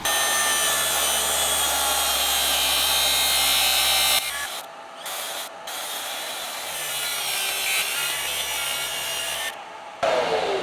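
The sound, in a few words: hand sawing a wooden kitchen worktop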